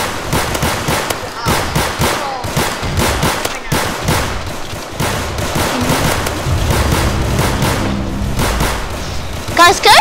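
Gunfire from a Roblox Zombie Rush game: rapid, dense bursts of shots crackling almost continuously, loud and close, with voices talking over the shooting.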